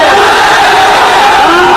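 A huge crowd of thousands shouts and roars during a gherao of judges in Malda, Bengal. The roar is loud, continuous and close, with no pause.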